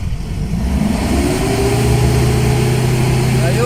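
A 2016 Mitsubishi Pajero with a loss of power revs from idle. The engine pitch climbs slowly and only a little, and the sound stays steady and close throughout, with no voices.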